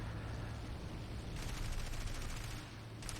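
Aircraft machine guns firing in War Thunder during a dogfight with an HE-111 medium bomber, a dense steady rattle of rapid shots lasting most of the moment, loud and unbroken with a brief change near the end.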